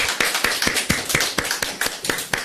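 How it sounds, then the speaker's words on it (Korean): Church congregation clapping together in rhythm, a series of sharp, evenly spaced claps, fairly close and loud, with no talking over them. "함께 우리가 하나님께 함께 감사의 박수를 드립시다."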